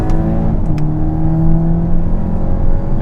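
A 2019 Volkswagen Arteon in sport mode, engine droning loud and close from inside the cabin as revs rise and settle after a downshift, with a couple of faint clicks early on.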